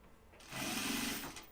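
A sewing machine stitching fabric runs in one short burst of whirring, close and moderately loud, starting after a quiet moment and easing off about a second later.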